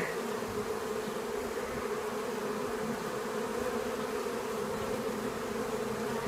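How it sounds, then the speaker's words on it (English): Honeybees in a nucleus colony give off a steady, dense buzz, close and continuous throughout with no break in intensity and no voices. "it's such a wonderful sound to hear, the sound of the buzzing"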